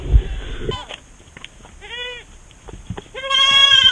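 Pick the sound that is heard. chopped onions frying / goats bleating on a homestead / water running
goats bleating on a homestead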